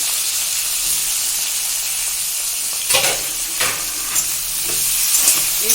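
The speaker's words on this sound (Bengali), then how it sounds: "কালো জিরে ফোড়ন দিলাম, পেঁয়াজ কুচি, টমেটো কুচি দিয়ে দিলাম" Chopped onion and tomato fry in oil tempered with nigella seeds, producing a close, steady sizzling hiss broken by a few louder bursts of stirring and scraping midway, with no voices.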